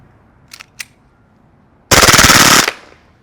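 An Elite Force Glock airsoft pistol fires two quick single shots, then after a pause a loud close fully automatic burst of rapid rattling reports lasting under a second, with no talking.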